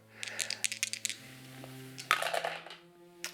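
Two yellow dice for a mace attack in the tabletop game Warcrow Adventures clatter across a table in a quick run of light, close clicks, with a second smaller rattle shortly after.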